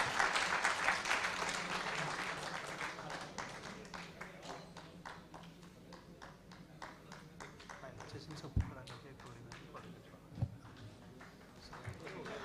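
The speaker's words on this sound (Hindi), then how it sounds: "आप सब तालियों से तो इस स्वागत में सहयोग दे ही सकते हैं।" An audience claps continuously to welcome guests at a live spiritual gathering. The dense clapping starts loud and fades toward the end, with a couple of sharp knocks and some speech mixed in.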